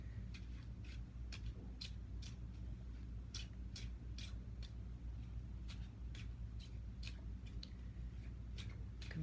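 Tarot cards being shuffled up close, with a quiet series of sharp, papery clicks and flicks repeating over a low steady background hum.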